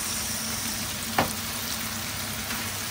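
Onions fry in a pan in a Filipino kitchen, a steady close sizzle and crackle with one sharp clack of a utensil near the middle, and no voices.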